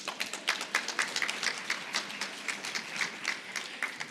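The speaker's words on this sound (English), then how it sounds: "Round of applause." An audience at a gubernatorial candidates forum claps steadily, with a dense run of individual hand claps at a fairly even pace, heard from some distance in a large room, and no voices over it.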